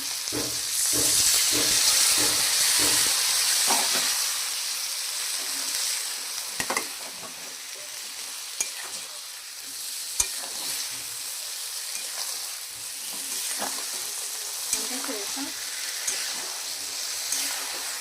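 Masala frying in a pan after a splash of water, a loud continuous hiss and sizzle that eases slightly over time, with occasional soft clicks of stirring.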